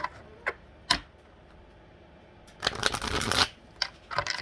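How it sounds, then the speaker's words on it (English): A deck of tarot cards is shuffled in brisk riffling bursts, with a few short taps before a longer, loud shuffle and more quick flicks at the end, close by and alone. "We shuffle a couple more times."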